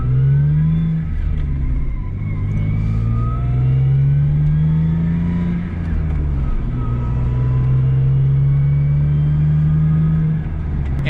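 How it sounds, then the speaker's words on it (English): A warmed-up Lexus IS 300 with a manual swap idles steadily at about 1200 RPM, giving a continuous low, even engine drone close by with slight wavering in pitch and no talk over it. "So now the car's warmed up, I'm still idling at about 1200 RPM"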